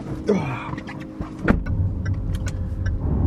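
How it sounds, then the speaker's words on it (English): Car driving on a road, heard from inside as a low steady engine and road rumble with a few small clicks and rattles, close and continuous with no talk. "I'm driving about an hour today to get to a coffee rotisserie."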